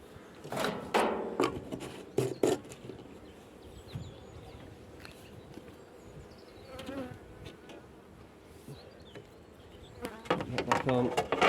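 Honey bees buzz around a hive during winter preparation and syrup feeding, a soft, continuous drone close by, mixed with handling thumps, rustles and knocks from working the hive.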